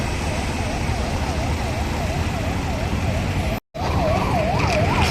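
An ambulance siren wails in a heavy traffic jam on Ghodbunder Road, its rising and falling tone steady over engine and traffic noise, cutting out briefly and then returning louder.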